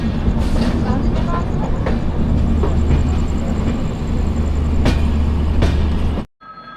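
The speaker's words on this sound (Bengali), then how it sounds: "জব্বলপুর স্টেশনকে এবার টাটা বাই বাই করে চললাম আমাদের গন্তব্যের দিকে।" The Howrah-CSMT Mumbai Mail pulls out of Jabalpur station with a steady low rumble, scattered clicks and clanks from the carriages, and a few sharp metallic knocks.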